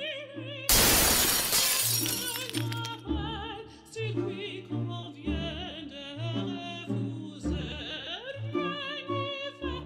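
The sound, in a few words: chandelier crystal and steel smashing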